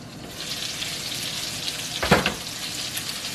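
Green eggplants roasting in oil in a lidded pan for a spicy curry, giving a steady close hiss and crackle with one brief louder burst of sizzle near the middle.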